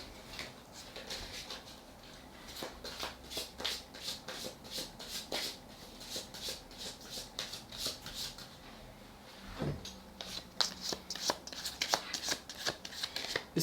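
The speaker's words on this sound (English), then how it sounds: "Let's start shuffling, yeah?" Tarot cards are shuffled in quick, crisp riffles and flutters, close by and repeated in bursts, with no talking over them.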